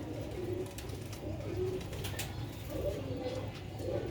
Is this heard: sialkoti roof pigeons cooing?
yes